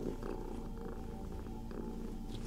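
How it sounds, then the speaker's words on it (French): A cat purrs close up in a steady, rumbling rhythm, soft but continuous throughout, with no talking. "Tu entends les ronronnes."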